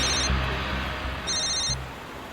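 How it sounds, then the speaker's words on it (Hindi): A telephone rings in two electronic trilling bursts, one at the start and another about a second later, over a steady low background hum indoors. "विनीत का फोन।"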